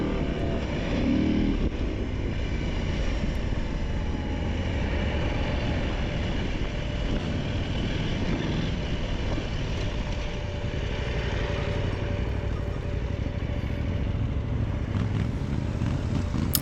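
A motorcycle wheelieing on its rear wheel while riding on a grassy track, engine droning loud and steady close by for the whole stretch with only slight rises in pitch, no voices over it.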